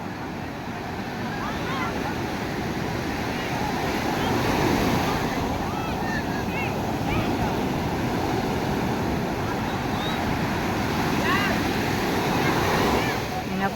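Big ocean waves crash and roll continuously for over ten seconds, a loud, dense, close surf roar mixed with gusting wind, with faint voices underneath.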